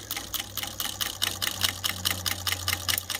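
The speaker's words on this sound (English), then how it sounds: "Alright, so this is through 3 layers of heavy leather, and it just sewed perfect." A Pfaff 483 single-needle sewing machine stitches through three layers of heavy leather, its needle hammering in a fast, even rhythm over a low steady motor hum.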